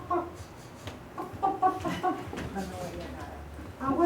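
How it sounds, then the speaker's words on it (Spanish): A hen clucks in short bursts, fairly close, with a voice speaking in between the clucks. "Pero la gallina"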